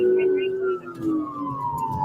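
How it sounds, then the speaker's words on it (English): A police car siren wails continuously, its tone sweeping steadily downward over two seconds, loud and close, with faint talk underneath. "Turn my light sirens on."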